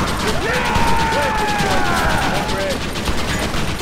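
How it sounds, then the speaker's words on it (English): Rapid enemy gunfire in the Red Dead Redemption video game, dense crackling bursts of shots filling the scene continuously, loud and close with a voice talking over it. "Stop shooting me."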